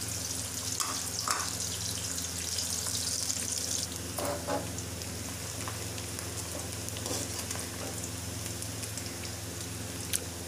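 Onions browning in a pan of oil for potato curry, a steady close hiss and crackle of frying with faint stirring clicks, continuous throughout with no voices.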